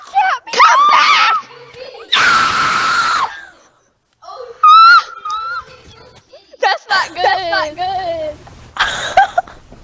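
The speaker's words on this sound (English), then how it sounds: "And then I screamed louder than I wanted to." During Minecraft play, a person lets out loud shrill screams in several bursts, mixed with excited talking and squealing voices close to the microphone.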